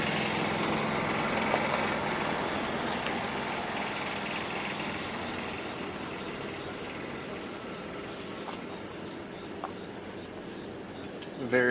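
A tractor passing by outdoors at night near Boca Chica, Texas, heard as a continuous engine drone under chirping crickets, fading gradually and never very close.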